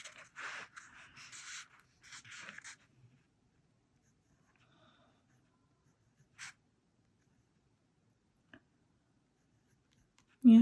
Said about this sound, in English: also write the name.